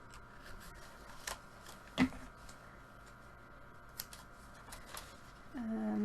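Scissors snipping a small strip from a book page for a folded book-art Christmas tree, faint crisp cuts with one sharper snip, quiet and close over soft background noise.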